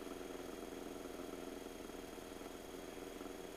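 Light aircraft engine at full power, a steady, even drone with a faint vibrating pulse, heard from inside the cabin at moderate level with no talk.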